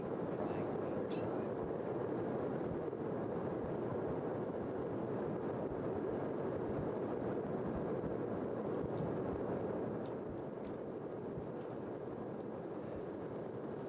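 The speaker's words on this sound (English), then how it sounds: "it sounds like someone's breathing or crying on the other side" Faint breathing or muffled crying from behind a door in a horror video game, a soft, steady breathy hiss that runs throughout with a few brief higher tones near the start, slightly quieter toward the end.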